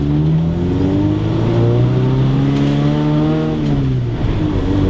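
A Ford Escort engine revs high and hard, its rising and falling harmonic whine loud and close, holding steady through the upper rev range with a brief dip near the end.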